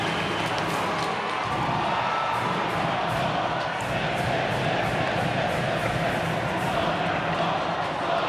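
A crowd at an RPI men's hockey game against Yale roars after a goal, a dense, loud and sustained wall of cheering that holds for the whole stretch, with an announcer's voice blended in.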